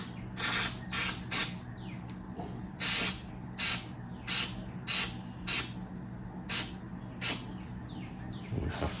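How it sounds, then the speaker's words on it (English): Repeated short bursts of spray glue, about a dozen sharp hissing puffs in an uneven rhythm, close by over a low steady hum, while fitting a Triumph TR6 canvas soft top. "So now it's gonna be tricky to spray, but we'll figure it out."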